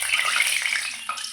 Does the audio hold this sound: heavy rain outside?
yes